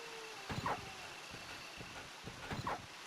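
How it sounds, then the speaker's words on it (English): Dogs in the Resident Evil video game give a few short barks and whimpers, two clustered bursts over a low ambient hum, with no talk. "I think there are dogs here."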